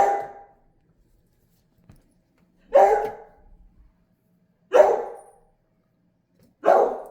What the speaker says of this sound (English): The doggy is not happy that we're here.